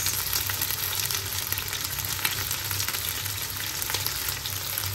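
Pork, cabbage and carrots stir-frying for Japanese yakisoba, a steady dense sizzle with faint stirring scrapes running unbroken throughout, close and fairly loud with no talking.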